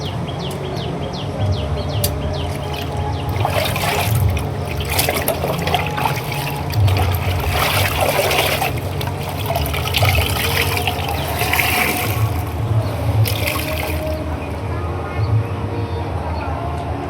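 A black cotton shirt is soaked and wrung out in water, giving trickling, dripping and sloshing sounds in irregular bursts, close by, with birds chirping faintly in the background.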